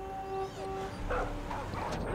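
An injured dog in the Far Cry 5 video game whimpers and yips in short, high, plaintive cries, close and clear over a steady game background.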